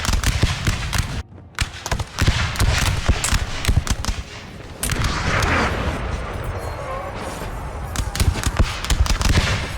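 Musket volleys in a Napoleon: Total War battle, dense crackling bursts of gunfire with heavy booming reports, loud and continuous, breaking off briefly before firing resumes.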